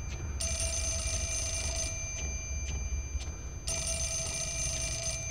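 A telephone in the horror game Fatal Frame Lunar Eclipse rings in two bright electronic bursts separated by a pause, over a low rumbling ambient background.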